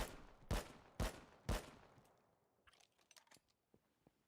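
An AK rifle tap-fires three evenly spaced single shots in the video game Rust, sharp close reports each trailing into a brief decay, followed by faint scattered clicks and rattles.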